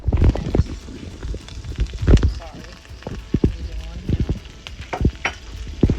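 Onions and peppers hit hot sesame oil in a pan on high heat and are stirred, giving a close crackling sizzle with sharp knocks and scrapes, while a person talks over it.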